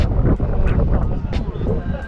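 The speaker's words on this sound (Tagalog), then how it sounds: "Kung naririnig nyo sa video yung hangin." Strong cold wind on Hehuanshan mountain in Taiwan buffets the microphone as a steady loud rumble, with people talking over it.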